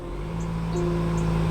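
A 2022 Jaguar F-Pace S engine catches and settles into a steady, close idle hum with a slight rise in pitch partway through.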